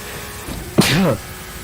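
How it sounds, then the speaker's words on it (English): A single sharp sneeze from a person on a live stream about an Assetto Corsa Formula 2 race, a brief close burst followed by a short voiced trailing sound. "that's a sneeze on stream"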